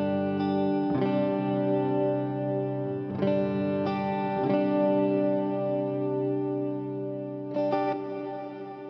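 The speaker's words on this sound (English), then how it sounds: "And then I'll kick on the reverb." Sustained electric guitar chords ring through an amp with a reverb pedal patched into the effects loop, a few strums restruck at intervals and each tail washing out with a lush, spacious decay.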